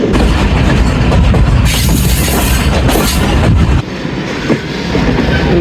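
A 101 Up railcar train pulling into Gujar Khan station, loud close rumble and clattering wheels with bursts of hiss and squeal, easing slightly near the end.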